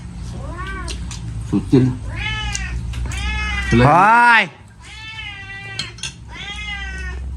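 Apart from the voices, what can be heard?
cat meowing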